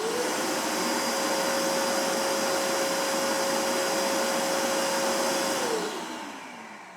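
A Ridgid 5 horsepower, 3 gallon compact shop vacuum runs with a loud, steady whine and broad airy roar for about six seconds, then winds down as it switches off, heard alone without talk.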